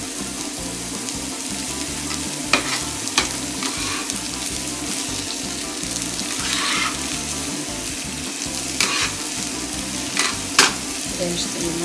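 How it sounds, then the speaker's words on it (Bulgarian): Food for Lenten cabbage sarma fries over moderate heat in a pan, with a constant loud sizzle and occasional sharp scraping clicks as it is stirred. "да се пърже на умерен огън."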